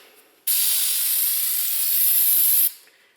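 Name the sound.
spraying cleaner on a new brake rotor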